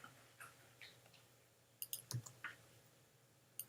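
Quiet, isolated clicks from a computer mouse at a desk, a few spaced taps early and then a brief cluster of sharp clicks, all faint and close with no talking.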